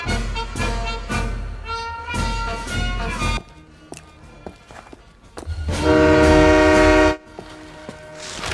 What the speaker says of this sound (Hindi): गोल्ड ट्रेन निकल चुकी है